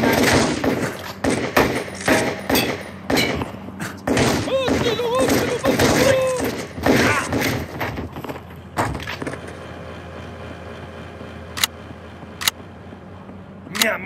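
Gunfire in the video game Total Overdose: rapid bursts of shots and thuds pile up in the first half, then scattered single cracks ring out over quieter background, with voices heard in the game.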